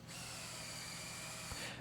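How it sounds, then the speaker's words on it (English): A power drill whirs steadily as it starts bolts into a 2x4 and pipe lumber storage rack in a garage wood shop, one continuous close burst under two seconds long with a faint click near the end. "so I'll start the bolts with the drill and finish with a wrench."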